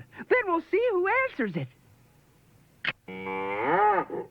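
A cow moos from a 1989 See 'N Say toy video phone, two wavering low calls with a short gap between them, coming right after a brief spoken line.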